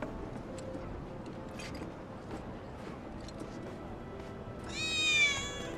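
A cat in the Final Fantasy VII Remake video game gives one short, clear meow near the end, over a quiet game backdrop of faint ticking and ambience.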